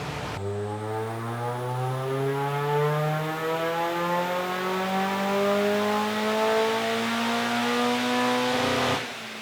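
A supercharged car engine on a dyno climbs steadily in revs under load, a loud, continuous rising drone with a whining harmonic tone that cuts off abruptly near the end.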